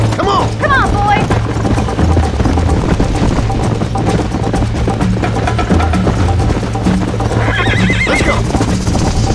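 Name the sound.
horses galloping and neighing during a race in video game Red Dead Redemption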